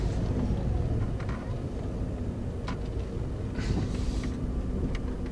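A parked car's engine idles in a steady, even low rumble with faint broadband hiss throughout, and no voices are heard.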